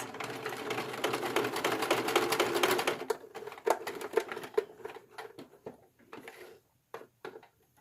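A sewing machine top stitches the raw seams of a swimsuit, its rapid steady whir running alone for about three seconds before breaking into short bursts and separate stitches.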